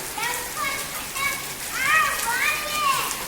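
Heavy downpour hisses as a dense, steady wash throughout, while children's voices and chatter rise over it.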